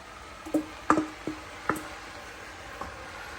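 A spoon stirs Jamaican steamed vegetables and saltfish in a pot, making a handful of soft, wet squelching knocks close by, then fading to quiet.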